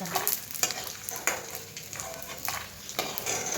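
Edible gum puffs and sizzles in hot oil while being fried for an North Karnataka sweet, a steady crackling hiss with periodic stirring scrapes and soft clinks.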